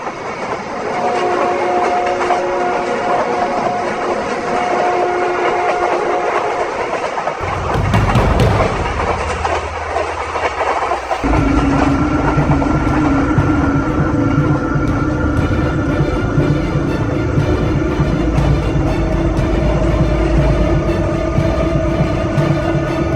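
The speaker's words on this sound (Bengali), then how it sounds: "আমরা ট্রেনের হর্ন শুনতে পাই, তার মানে ট্রেন আসছে" Cartoon train approaching and passing a haunted station, sustained horn blasts over a constant rumble, then a sudden louder surge of heavy wheel clatter as it rolls by close and loud.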